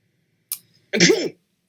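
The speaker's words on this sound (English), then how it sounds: "Oh, that was an actual sneeze?" A single short, sharp sneeze preceded by a quick intake of breath, close and otherwise silent.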